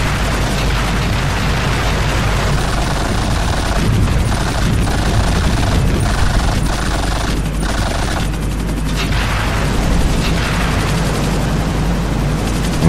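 Aircraft in the video game GTA IV, a loud, continuous engine drone and roar that runs steadily through the whole stretch, with a few brief dips and sharper game noises layered over it.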